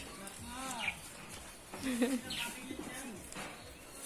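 A pigeon cooing nearby in a farmyard with large chickens, soft low repeated coos mixed with other faint bird chirps while people talk in the background.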